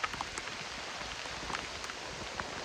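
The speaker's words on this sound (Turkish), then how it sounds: "Yağmur bayağı bindirdi." Steady heavy rain patters on a taut tent surface while camping, with scattered sharper drops tapping close by over a continuous hiss.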